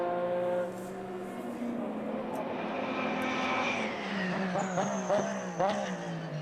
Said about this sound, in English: Number one, brake squeal.